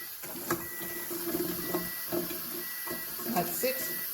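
Water runs steadily from the lower and upper hoses of a Kangen water machine, a continuous hiss-like flow with faint clinks and small bumps over it, fairly near and moderate in level.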